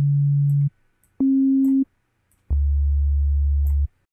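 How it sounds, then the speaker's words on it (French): Sine-wave oscillator tones from the Retrologue synth in Cubase, set up for a bass sound: three pure sustained notes, each held under a second or longer, with a low final note, clean and loud with no talking. "je vais mettre un oscillateur sinusoïdal pour avoir ce type de son"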